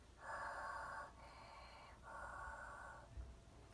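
A voice imitates a firefighter breathing through an oxygen mask: three long hissing breaths in a row, each about a second, close and fairly steady, with no talk.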